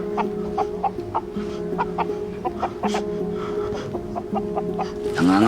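Chicken clucking in short repeated bursts over a steady low hum, fairly close, with a brief louder flurry near the end.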